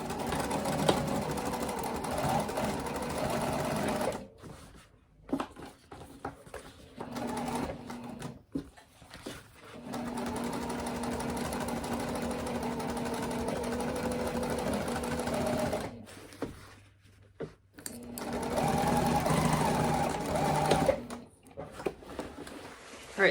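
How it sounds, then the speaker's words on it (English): A sewing machine stitches across the bottom of a fabric boxed bag to attach an accent bottom, running in steady whirring bursts with brief pauses between, close and loud with no talking. "I'm gonna go to the machine, I'm gonna stitch right across the bottom here"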